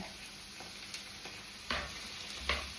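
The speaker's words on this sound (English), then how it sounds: "And you just want to cook off that base paste." Curry base paste fries in a pan with a steady low sizzle, close but quiet, broken by a couple of soft stirring scrapes and knocks.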